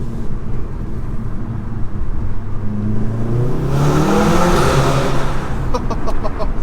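A stage 2 tuned 2016 VW Golf R in normal mode revs hard from inside the cabin, its engine note rising steadily to a loud peak around the middle before easing off, with a few crackles toward the end.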